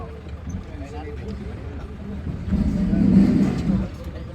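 A car engine runs and revs up briefly near the end, rising in loudness before settling, with someone talking over it.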